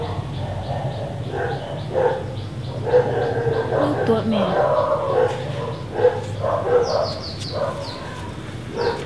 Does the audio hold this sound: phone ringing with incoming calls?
no